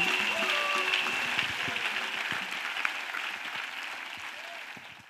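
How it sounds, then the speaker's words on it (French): Audience applause at a Christian church gathering, a dense sustained patter of many hands clapping at steady loudness, slowly easing off toward the end with no voices standing out. "Let Us clap for this courageous man."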